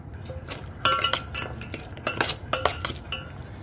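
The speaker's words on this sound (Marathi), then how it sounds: "सो आता यामध्ये मी रोस्टेड काजू ॲड करणार आहे." Roasted cashews tumble into a pan for an egg-and-cashew rice dish, with a spoon stirring them in, giving a run of close metallic clinks, scrapes and light rattles in irregular bursts.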